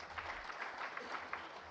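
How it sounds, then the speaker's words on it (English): Applause from an audience at a corporate celebration honouring retired employees, a steady wash of many hands clapping at moderate distance for a short burst. "let us please give a huge round of applause to all our retired employees"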